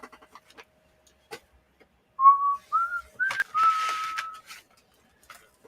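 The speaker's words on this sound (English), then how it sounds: "I irritate my wife when I would whistle the theme for X-Files." A man whistles the X-Files theme alone, a few clear sliding notes rising and held, with light clicks of Lego bricks being handled around it.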